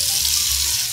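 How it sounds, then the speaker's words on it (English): A kitchen faucet runs hot water into a sink, a loud, close, steady hiss of pouring water with a low splashing rumble beneath, continuous for the whole moment. "run your faucet till you have some nice hot water"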